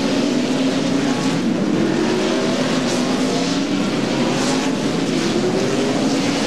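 NASCAR Winston Cup cars from the 1999 Goody's Body Pain 500 drive out of the pits in a procession, a steady loud droning roar of engines with overlapping whines and no voices.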